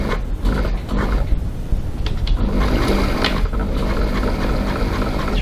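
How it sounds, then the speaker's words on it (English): Sewing machine runs steadily, top stitching along the edge of a leather wallet, with a continuous mechanical rattle and needle clatter close up and no talk. "we're just going to go over to the sewing machine and we're going to top stitch all the way along that edge"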